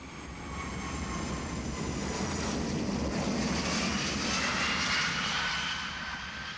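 Steady, broad roar of a jet aeroplane engine holding at an even level throughout, with a faint hissing whine on top and no voices.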